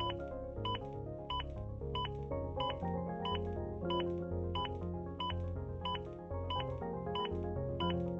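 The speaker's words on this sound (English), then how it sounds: "The beeps will speed you up." Steady electronic metronome beeps from an AED Plus guiding CPR compressions repeat at a brisk, even pace, sounding over a continuous layered musical background.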